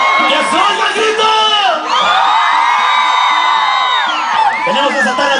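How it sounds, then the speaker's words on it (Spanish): A loud crowd in Plaza Garibaldi, Mexico, shouts the Mexican grito, with many voices whooping and yelling together in long, rising and falling cries that overlap densely and stay close throughout. "¡Que se oiga el grito!"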